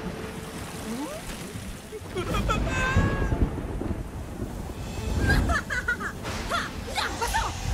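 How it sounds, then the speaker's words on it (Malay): Heavy rain over a city in an animated cartoon, with thunder rumbling in deep bursts over a constant downpour hiss, while voices and laughter sound over it. "Sudah 2 hari hujan turun dengan lebatnya di kota hilir."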